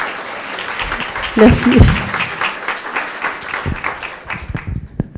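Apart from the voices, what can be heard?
audience applause at a round table event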